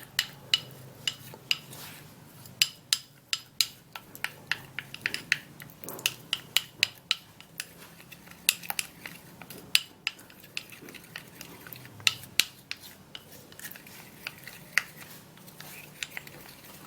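Skin paste stirred in a bowl, a long run of sharp clicks and taps from a utensil striking the bowl in an irregular rhythm, close and fairly quiet, with no talking.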